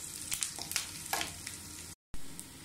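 Bay leaves, whole garam masala and cumin frying in hot oil in a pan for dal gosht chawal: a steady, close crackling sizzle with stirring scrapes, cut by a brief silence near the end.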